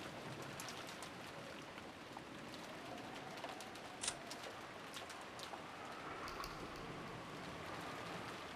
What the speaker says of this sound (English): we get the soothing sound of rain for the break